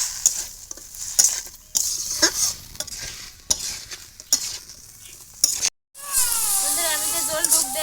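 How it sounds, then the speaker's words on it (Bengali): Greens sizzle in a frying pan with salt and turmeric while a spatula scrapes and stirs in irregular strokes, then a fresh hiss of steady frying after a brief pause. "এবার একটু নেড়ে ছেড়ে দেবো।"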